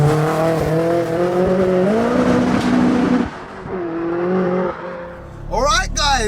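A tuned 522bhp Audi A3 1.8T race car engine revs and drones loudly from inside the cabin, rising and falling in pitch as it accelerates and shifts, ending with a sharp burst of revving.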